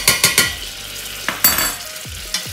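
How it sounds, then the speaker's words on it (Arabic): A spoon stirs flour into melted butter in a pan for a roux, with several sharp scraping knocks against the pan at the start, then softer stirring and a few later taps, close up and without voices. "غادي نحركم."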